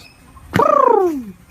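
A green pigeon gives one loud, close coo, a sharp onset sliding into a long, falling, tremulous note that fades out after about a second.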